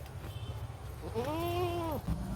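A single wavering bleat of a goat, close by and moderately loud, over a low steady background rumble.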